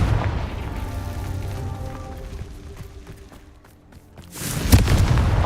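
Confringo spell explosions from the video game Hogwarts Legacy boom and rumble through a loud, continuous stretch of blasts, with a sharper, heavier burst near the end.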